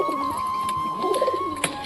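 Satin pigeons in a home loft coop give soft, low cooing calls, close and steady over a faint background hiss, with a few brief sharper noises near the end.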